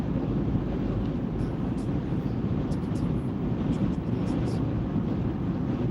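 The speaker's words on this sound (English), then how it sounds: "we got all this blowing wind" Wind buffets the microphone inside a car driving on a highway, making a constant loud low roar and rumble with no breaks.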